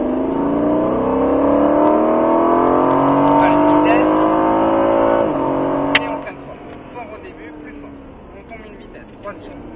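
An Aston Martin V8 Vantage on the Auxois circuit near Dijon accelerates hard, its engine note climbing steadily for several seconds before easing off abruptly, with a voice talking over it from inside the car.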